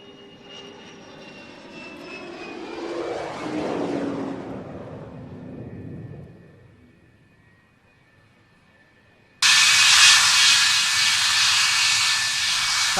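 A lineup of aircraft engines runs loudly, a powerful whining roar with descending sweeping tones that swells and fades away, followed after a quiet gap by a sudden harsh blast of hissing noise.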